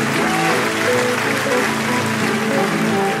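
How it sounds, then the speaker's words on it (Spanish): Dense applause from a group, continuous and close. Tonal voice-like bands run under the clapping throughout. "Un aplauso para Sis."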